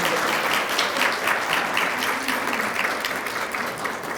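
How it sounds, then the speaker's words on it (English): Sustained round of applause from a crowd at a Women's History Month employee recognition event, steady dense clapping throughout, close and fairly loud with no talk over it. "Let's give them a round of applause."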